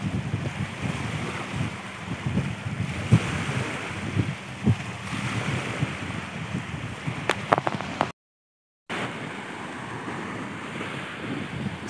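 Sea waves roll in a steady rough wash, mixed with strong wind buffeting the microphone; noise stays loud and continuous with a brief dropout near the end and no talking.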